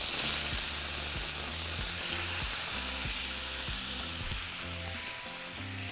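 Consomme-dipped tortillas fry in oil on a comal, giving a steady, bright sizzle with crackling pops, the hiss holding fairly even and easing slightly toward the end.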